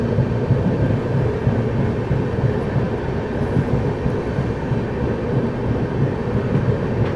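Chandigarh–Madgaon Express rake on the rails on a chilly day, a steady loud rumble of wheels and carriages running continuously without breaks, no voices.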